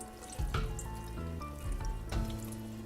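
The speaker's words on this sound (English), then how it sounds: "gather up the edges of the cheesecloth and squeeze the curd gently to get rid of more whey" Whey dripping and trickling from cheese curd squeezed by hand in cheesecloth, a steady close wet patter with a few sharper splashy bursts, no talk.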